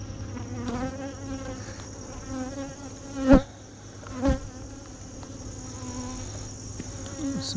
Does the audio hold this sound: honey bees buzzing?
yes